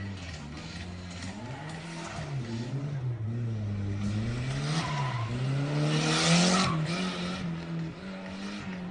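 Drift race cars skidding at a competition in Syria, sustained tire squeal over revving engines that swells to a loud peak midway, continuous and fairly close.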